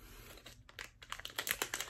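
Scissors cut open the plastic packaging of a blind-bag pin, giving faint crinkling and small sharp snips in quick irregular bursts, close up and quiet.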